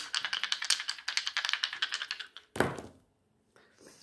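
Dice rattled and tapped during a tarot-style card reading: a fast run of sharp clicks for about two seconds, then a louder clatter and a short settling rattle, close and dry, with no talking.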